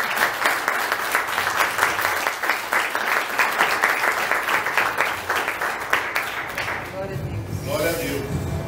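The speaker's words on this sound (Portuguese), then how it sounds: "Dê uma salva de palmas ao Senhor" A church congregation claps together, with a dense, lively burst of many hands that holds for about seven seconds before fading, and a voice then speaking over the tail.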